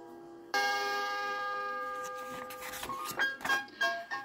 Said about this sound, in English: when you hear the chime, turn the page.